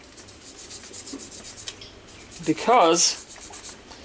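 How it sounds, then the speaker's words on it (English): Scrap steel samples from a junkyard Damascus billet scrubbed by hand for a rust test, a soft rasping rub in short strokes, quiet and close, with a brief spoken word in between. "let's start scrubbing. And I'm gonna just scrub a little bit on all of them"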